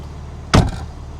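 A BMW G80 M3 Competition xDrive car door shuts with a single solid, close thud, briefly ringing before quiet background returns.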